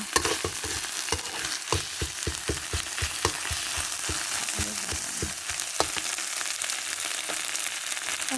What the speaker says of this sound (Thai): ผัดให้หอมเลยนะคะ ผัดให้หอม